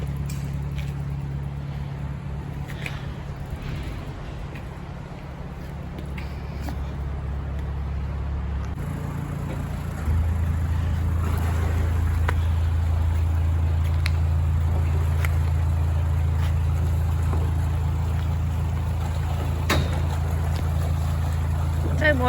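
A canal narrowboat's engine chugs steadily at close range with a low droning throb, shifting to a deeper, louder note partway through, with wind buffeting and faint knocks around it.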